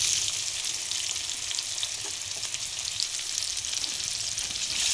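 Cut potatoes for a vegetarian cauliflower curry fry in hot oil, giving a loud, dense, continuous sizzle with faint stirring underneath and no voices.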